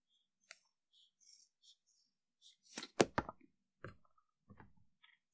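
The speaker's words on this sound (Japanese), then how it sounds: "この部分をハサミで切ってください。" Scissors snip through a leather tsuka-gawa, a sword-handle wrap, with a few faint scattered clicks followed by a close cluster of crisp cuts partway through, then sparse snips in quiet surroundings.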